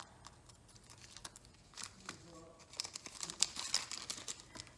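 Scissors snip through the end of a plastic bag close by, with crinkling and tearing rustles of the material in short, irregular bursts and no talking.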